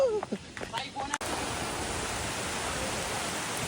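Brief speech-like sounds at the start, then a steady, loud roar of high-pressure water rushing down Lingmala Waterfall in Mahabaleshwar takes over and continues unbroken.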